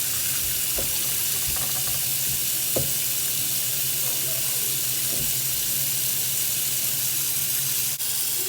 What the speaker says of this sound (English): we're going to drain these beans here, drain the water off, and we're going to put fresh water on it